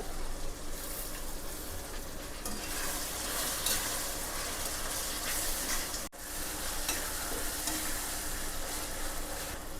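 Coriander and curry leaves, with tomato, fry in a pan for an Andhra-style sea crab curry, giving a loud, steady close-up sizzle that breaks off for an instant midway.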